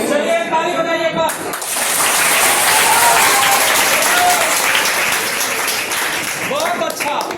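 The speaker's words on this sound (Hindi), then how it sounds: "चलिए ताली बजाइए एक बार।" An audience at a school event claps after being asked to applaud, a dense, loud burst of applause that swells after a spoken line and holds for several seconds before fading as a voice resumes.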